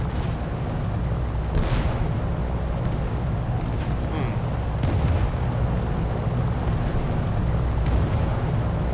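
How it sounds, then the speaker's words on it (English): Flak anti-aircraft fire in War Thunder, dull booming bursts scattered over a constant low aircraft engine drone, several thuds at irregular intervals, moderately loud, with no talking. "That's flak."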